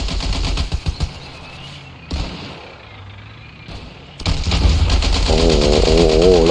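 Gunfire in the World War I–themed video game Ravenfield, with dense bursts of rapid shots and heavy booms, a quieter lull midway, then sustained loud firing with a rising mechanical whine near the end.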